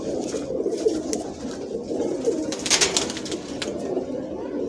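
Lahori pigeons in Sialkot coo in soft, repeated low rolling calls at close range, the throaty phrases recurring every second or so over a steady murmur.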